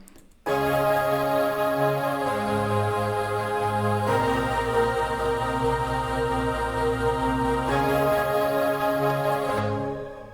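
A recreated instrumental beat plays loud and alone, with layered sustained synth tones over a deep bass line that shifts partway through before fading at the end.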